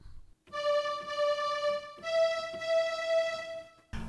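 A sustained synthetic string tone from a Casio SA-76 keyboard holds one note, then shifts to a second held note, steady and smooth, with no voices.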